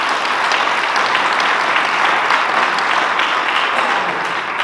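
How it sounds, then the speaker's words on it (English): Loud, dense applause from an audience at a police commissioners' community listening session, sustained and even throughout. "I think they ought to deserve a round of applause."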